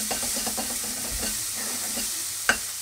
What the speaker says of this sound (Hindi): चला देते हैं, थोड़ा गोल्डन होने देते हैं प्याज को।